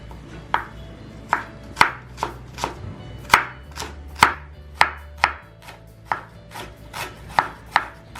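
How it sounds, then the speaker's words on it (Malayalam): Peeled small red onions (shallots) being sliced on a board, about fifteen crisp knife thuds at an uneven unhurried pace, close and clear with no voices. "അപ്പോൾ ഇത് ഞാൻ ഇതിൻ്റെ തോലൊക്കെ മാറ്റിയിട്ട് കഴുകി ചെറുതായിട്ടൊന്ന് അരിഞ്ഞെടുക്കാൻ പോവാണ്"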